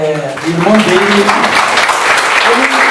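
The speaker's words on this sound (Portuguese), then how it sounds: "Give me a round of applause." Audience clapping at a Brazil–Nigeria capoeira gathering, a dense continuous patter of hands heard alongside a voice speaking or chanting over the top throughout.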